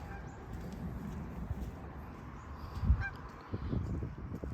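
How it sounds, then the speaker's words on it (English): A single goose honks a few times at a distance over steady outdoor ambience on Park Lane, with a louder thump near the middle. "Single goose making a din."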